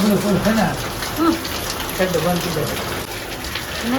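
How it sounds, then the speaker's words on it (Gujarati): Steady rain pours down across a surface with a constant hiss, while faint voices are heard under the downpour. "વરસાદ તો છે જ ને."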